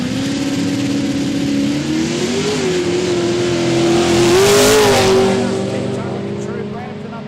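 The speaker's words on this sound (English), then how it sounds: "Pete Sawyer, the left-hand drive, Mercury Cougar with a very stout small block Ford and some nitrous." A left-hand-drive Mercury Cougar drag car with a stout small-block Ford V8 and nitrous roars at a Quick Street drag event, its engine note climbing steadily as it accelerates, loud and sustained throughout.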